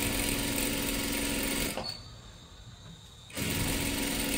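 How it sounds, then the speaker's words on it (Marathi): A sewing machine runs steadily while stitching kurti and salwar fabric, its close, even mechanical whir dropping away briefly in a short pause before resuming at full speed. "इथून आपल्याला शिलाई करायला सुरुवात करायची आहे"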